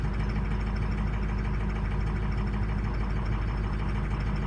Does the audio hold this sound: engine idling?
yes